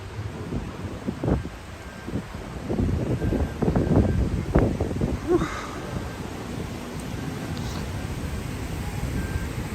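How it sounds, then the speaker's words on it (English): Strong wind buffets the microphone outdoors on the Las Vegas Strip, with rumbling gusts that swell in the middle and then settle into a steady blustery roar, loud and close, with faint city sounds beneath. "Oh, it's so windy."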